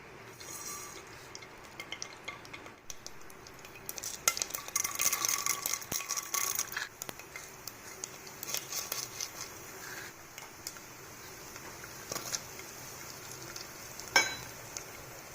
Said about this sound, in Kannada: ಪಲ್ಯಕ್ಕೆ ಒಗ್ಗರಣೆ ಹಾಕಿಬಿಡೋಣ ಮನೆಯದು ಮೆಣಸಿನಕಾಯಿ ಹಾಗೆ ಸಾಸಿವೆ ಕಡಲೆಬೇಳೆ ಉದ್ದಿನಬೇಳೆ ಎಣ್ಣೆಯನ್ನು ಇಟ್ಕೊಂಡಿದ್ದೀನಿ